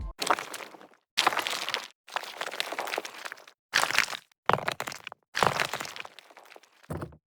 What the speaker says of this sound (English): I've just used a few rock impacts for this transient without any processing really.